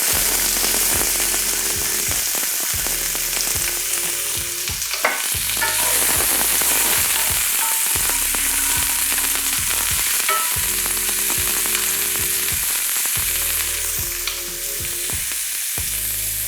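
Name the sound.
chopped onion frying in hot pan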